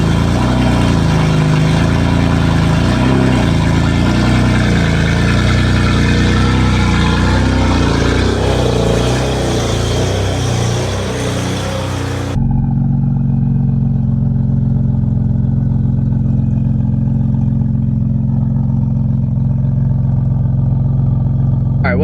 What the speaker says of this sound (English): So let's go ahead, start the F80 up.